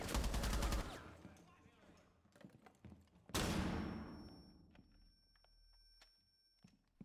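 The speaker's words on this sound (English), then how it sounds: "Always with those flashbangs, dude." A flashbang grenade goes off in Rainbow Six Siege, a sharp loud burst followed by a long high ringing tone and scattered clicks and thuds, with another sharp bang early on.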